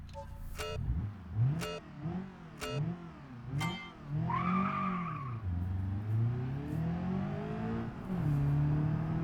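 A Covet car engine revs in the BeamNG driving game on Jungle Rock Island, with a series of sharp rising revs and gear shifts followed by a sustained climbing engine drone and a brief tire squeal, loud and close.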